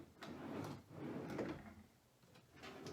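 An old, worn, raggedy drawer slide dragging as the drawer moves, quiet scraping and rumbling strokes in a back-and-forth rhythm, close by, with no talking.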